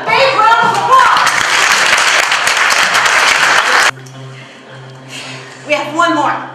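An audience applauds an entrepreneur award winner at an ACCE event in Toronto, with loud, dense clapping for about four seconds that then cuts off, followed by someone speaking.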